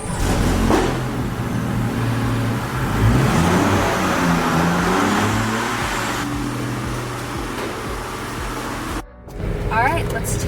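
A Range Rover with a 4.4-liter bi-turbo V8 is driven with a loud, sustained engine drone that rises under acceleration. A voice talks over it, and a brief dip near the end precedes a return of the engine noise.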